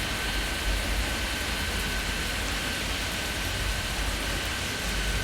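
Rain falls steadily in the video game Airport Madness 3D at a Rocky Mountain airport, a constant, even hiss of rain with a low rumble beneath and no other sounds.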